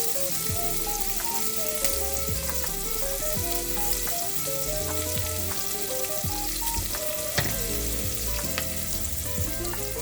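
Garlic, half an onion and green pepper fry in a teaspoon of olive oil, a steady close sizzle and crackle that runs without pause under a tonal musical backdrop.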